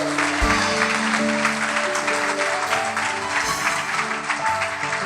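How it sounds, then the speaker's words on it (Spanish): Church congregation applauding together during a sermon, a loud, dense wash of clapping that fills the whole clip with steady intensity and a faint voice or music beneath it. "Aplauda a Cristo."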